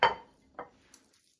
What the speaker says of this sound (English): he'll put it into a bowl